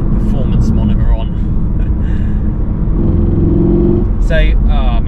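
A Volkswagen Golf R drives in race mode, its engine rumbling loudly and steadily from inside the cabin, with a rise in engine note midway while someone talks over it.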